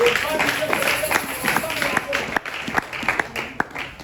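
Church congregation applauding during a French-language service, loose scattered claps at moderate distance mixed with voices and cheering throughout.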